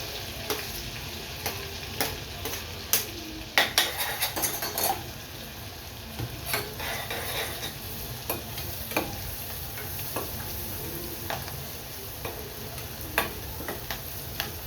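Garlic, chilies and curry leaves hit hot oil with asafoetida in a pan for vegetable pulao, giving a steady sizzle broken by sharp spoon clinks and scraping stirs, close and without talk.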